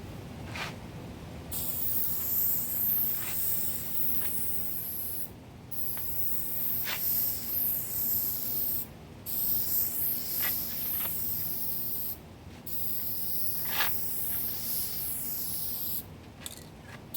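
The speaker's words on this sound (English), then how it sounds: "make sure you give it a test spray to see how it sprays before you actually spray" An aerosol spray can sprays paint outdoors in repeated hissing bursts of a few seconds each, separated by short pauses, close and fairly soft.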